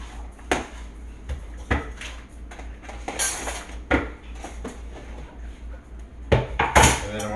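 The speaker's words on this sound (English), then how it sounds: "So I'm gonna mix this all around" Ingredients for mushroom patties being mixed by hand in a bowl: irregular clinks and scrapes of a utensil against the dish, a few sharper knocks, moderately close with no talking.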